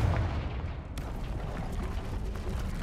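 A Confringo blast spell in Hogwarts Legacy lands as a sharp, booming burst near the one-second mark, set against a steady dense rumble of game ambience.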